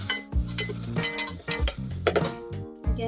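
Squid and mushrooms stirred in tomato sauce in a pan, a spoon scraping and clinking against the metal in irregular strokes close by, with a soft sizzle underneath.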